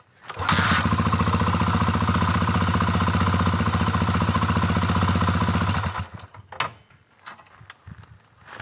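A Honda XR400 dirt bike fires up and runs at a loud, steady, throbbing idle for about five seconds, then cuts off, followed by a few clanks and handling noises.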